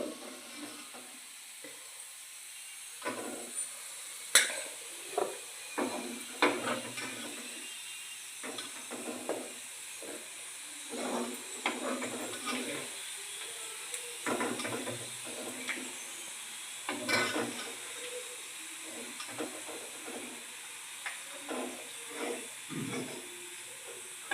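Chicken pieces fry in oil for chicken pickle, a continuous hissing sizzle broken by frequent scraping stirs and louder spattering bursts, close and steady for the whole stretch.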